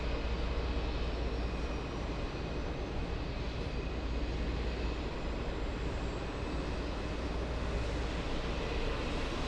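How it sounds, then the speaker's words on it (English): An aircraft auxiliary power unit spools up at an airport, a faint, steady broadband rumble with a thin whine above it, heard from a distance without voices. "APU is starting up"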